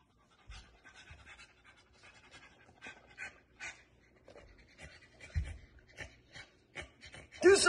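A dog pants close by in quick, irregular breathy huffs that continue throughout, with a louder burst at the end.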